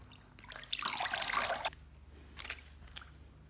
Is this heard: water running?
yes